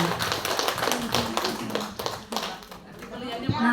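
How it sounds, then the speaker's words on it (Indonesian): A classroom audience of teachers and students claps hands together, a brisk patter of applause that continues for a few seconds with voices mixed in. "Kasih tepuk tangan,"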